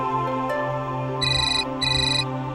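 A phone ringtone chimes in two bright electronic bursts over a steady low background hum, in an indoor family setting from an Indian crime drama.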